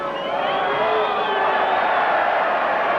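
A rugby league test crowd between New Zealand and Great Britain roars in a sustained, broad cheer that fills the stadium, steady and loud throughout with a commentator's voice faintly underneath.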